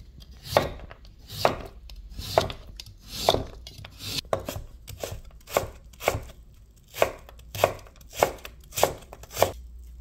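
A knife chops radish on a cutting board for asagi pepper kimchi, about a dozen distinct, evenly paced close-up thunks with quiet gaps between strokes and no talking.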